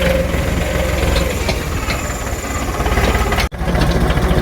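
A tractor engine running in a village, a steady, loud, low droning rumble that holds throughout, with a brief dip near the end and no talk.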